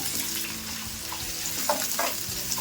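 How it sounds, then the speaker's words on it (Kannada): Finely chopped onion sizzling in hot oil with mustard seeds and curry leaves, a close, steady hiss with a few brief stirring clinks and no talking. "ಈರುಳ್ಳಿನ ಸಣ್ಣ ಕಟ್ ಮಾಡಿ ಇಟ್ಕೊಂಡಿದ್ದೀನಿ, ಅದನ್ನ ಹಾಕೊಂತಾ ಇದೀನಿ."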